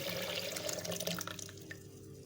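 Water pours steadily into a jug or blender holding falsa fruit, sugar and lemon for homemade lemonade, a close, continuous splashing trickle that tapers off toward the end, with no talking.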